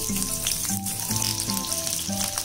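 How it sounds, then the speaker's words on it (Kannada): Chopped medium onion dropped into about two tablespoons of hot oil for a mutton keema curry, giving a steady, fairly loud sizzle that runs under tonal background music throughout. "ಒಂದು ಮೀಡಿಯಂ ಸೈಜ್ ಈರುಳ್ಳಿ ಚಾಪ್ ಮಾಡ್ಕೊಂಡಿದ್ದೀನಿ, ಇದನ್ನ ಹಾಕೋಬೇಕು."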